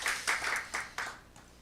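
Clapping from a small congregation during a Sunday church service, a few short bursts of hand claps spread over under two seconds, moderately near and fairly quiet, with no voices over it.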